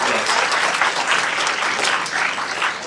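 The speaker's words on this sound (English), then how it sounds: "Please give a round of applause." An audience at a mental health talk marking a Platinum Jubilee celebration claps in a sustained round of applause, dense and steady throughout, with a faint voice underneath.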